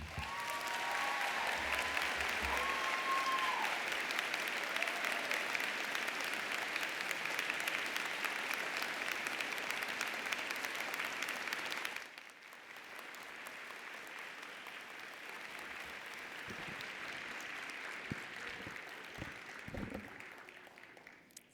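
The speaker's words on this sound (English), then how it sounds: "Another round of applause for our commencement speaker" A commencement crowd at the UIC Jane Addams College of Social Work ceremony applauds the speaker in long, steady, distant-sounding clapping, which drops to a thinner patter of scattered claps and low crowd murmur about halfway through.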